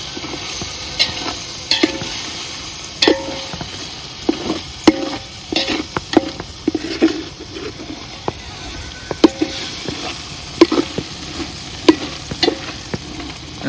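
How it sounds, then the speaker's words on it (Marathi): Masala gravy is stirred and fried in a pot on a wood-fired stove, with a continuous close sizzle broken by repeated sharp clinks and scrapes of the spoon against the vessel. "आता मसाल्यात चांगलं परतायचे त्याला."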